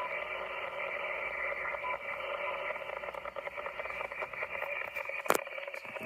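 An amateur radio receiver with its noise blanker switched off hisses steadily with dense static and buzzing interference tones, plus a brief crackle burst near the end.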